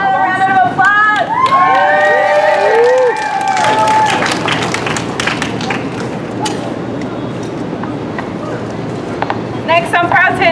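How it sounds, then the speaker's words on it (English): A crowd at a caregivers' rally for a domestic workers' rights bill breaks into applause and cheering, with whoops and shouts rising early and clapping holding on under a speaker's voice. "Another round of applause."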